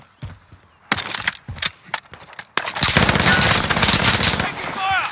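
Rapid bursts of automatic gunfire in a video game, loud and close, starting with scattered shots then a sustained dense fusillade through the second half, with players shouting over it.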